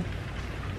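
Rain falls steadily as a dense, even hiss with a low rumble underneath, heard during an outdoor grocery run in America, with no voices over it.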